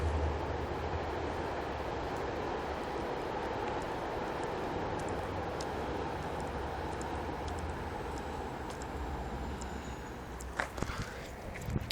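A train rumbles past at a distance, a steady broad roar with some metallic clanks and a squeal toward the end.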